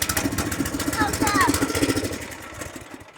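A tractor engine idles with a steady low throb, brought out to load onions, while people talk over it close by.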